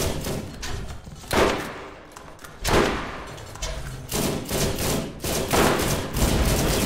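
Bursts of gunfire in the video game Borderlands as turrets are shot at, loud repeated volleys with short gaps, thuds and impacts between them, no talking heard.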